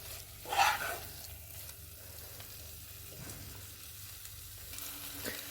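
Chicken roast masala sautéing in oil in a pan, a steady low sizzle with a brief louder burst of frying near the start, then a continuous soft crackle with no talk.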